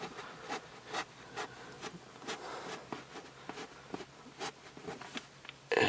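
A damp cleaning pad rubs gently over a car's Alcantara interior in repeated soft scrubbing strokes, close and quiet, each pass a short brushy swish, followed by a sudden louder thump at the end.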